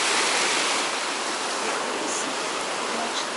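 Sea water washes around feet at the shoreline, a loud, dense, continuous rushing hiss close to the microphone, with no voices.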